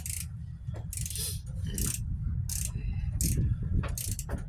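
An 18-inch breaker bar tightens a bolt on an engine block, making a series of sharp ratcheting clicks and scrapes in quick bursts over a low mechanical background.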